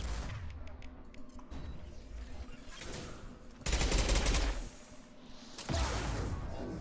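Heavy gunfire in Mass Effect 2 crackles in repeated rapid bursts, with two loud close volleys standing out above lighter scattered shots and a low rumbling background.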